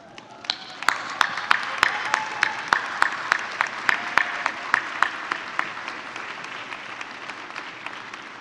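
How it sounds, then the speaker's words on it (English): Audience at a university graduation ceremony applauding families and friends, a loud sustained wash of clapping from a large crowd with sharp individual claps standing out near the front, gradually thinning toward the end. "give them a warm round of applause for supporting your journey"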